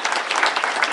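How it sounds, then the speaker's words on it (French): A short burst of applause from a small audience at a forum, with dense, brisk clapping held at an even level for under a second. "on peut vous applaudir"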